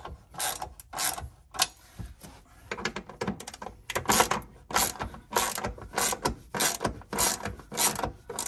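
A hand ratchet cranks the rear seat bolts on a Shelby GT350R, a close series of sharp clicking bursts in uneven strokes, repeated across the whole stretch with brief pauses, and no talking.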